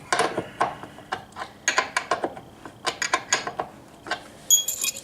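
A wrench tightens a bolt on a baseball bat bench during assembly, producing a quick, irregular run of sharp metallic ratcheting clicks close by, with brief pauses between bursts.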